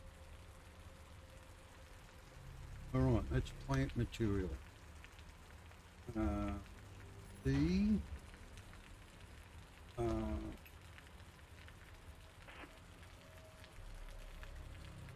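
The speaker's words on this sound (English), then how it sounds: "It's raining." Steady rainfall in the video game Osiris: New Dawn, a constant soft hiss running throughout beneath a man's intermittent speech.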